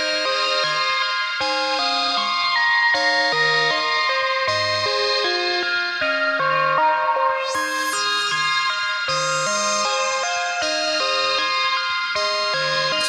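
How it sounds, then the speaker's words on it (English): A synthesizer sequence runs through a Delta Sound Labs Saber SEM filter with Clouds reverb, playing a steady rhythmic pattern of bright, distorted, echoing notes with a tempo-synced envelope, loud and continuous for the whole stretch. "Add some reverb from clouds."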